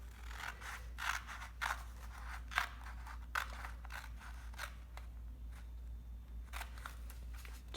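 Scissors snipping strips from a sheet of paper for paper weaving, a steady series of close, crisp cuts spaced about half a second apart, quiet against a low steady hum.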